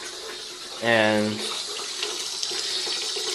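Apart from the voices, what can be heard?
water running from tap, filling tub to wash clothes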